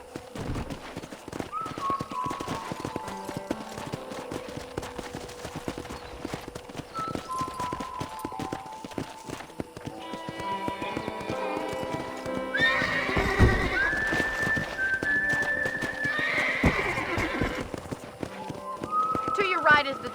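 Hoofbeats of a ridden horse in Red Dead Redemption 2 clatter steadily through the scene, joined by whinnies and neighs, with game music and speech running over them.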